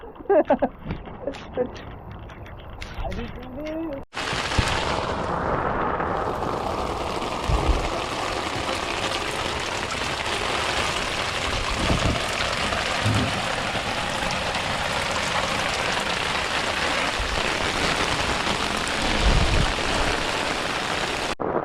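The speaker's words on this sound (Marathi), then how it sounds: "पाऊस भरपूर लागलाय" After a few seconds of mixed noise, a steady broadband wash of heavy rain pours down continuously during net fishing for catfish, loud and close, with occasional thumps.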